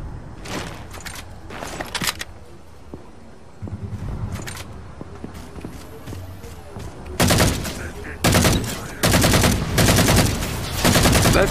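Rapid bursts of gunfire and explosive blasts from the Halo 4 shooter game, with railgun shots and vehicle combat, crackling in clusters that grow louder and denser toward the end.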